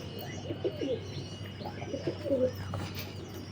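Kaldam pigeons coo in soft, rolling phrases with a few faint chirps, close by, over a low steady hum.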